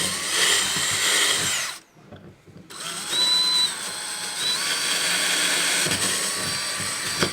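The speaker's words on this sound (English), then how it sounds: "we're going to hold it in place while we drill 2 new 1/4 inch pilot holes." A power drill whirs loudly drilling 1/4 inch pilot holes for a rack install on a Jeep Gladiator, stops briefly for a second, then drills again in a long steady run.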